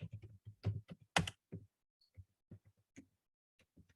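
Soft clicks and taps of someone typing a keyword on a computer keyboard, short irregular bursts of keystrokes with gaps between, quiet and close.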